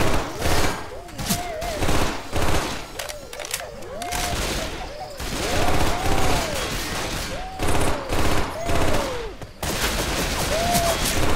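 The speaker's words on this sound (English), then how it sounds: "Going with the machine gun." Loud, rapid machine gun fire in a zombie-infested abandoned city shooter runs almost nonstop in clattering bursts with only short breaks, while several voices shout over it.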